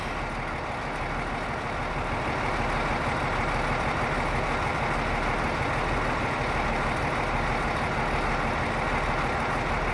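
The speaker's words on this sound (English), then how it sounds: "I got the motor grader stuck, so Jake's coming with a chain." A motor grader stuck off the edge of a runway, its heavy diesel engine running steadily at idle for the whole stretch, loud and close with a constant low rumble and no breaks.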